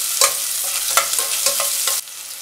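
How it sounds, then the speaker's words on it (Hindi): Onion and grated garlic saute in a hot pan for palak matar paneer rice, with a spoon scraping and stirring in several quick close strokes over a steady sizzle, no voices. "1 मिनट के लिए हम सौते होने देंगे इसको।"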